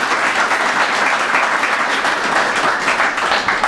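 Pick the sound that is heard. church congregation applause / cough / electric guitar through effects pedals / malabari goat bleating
church congregation applause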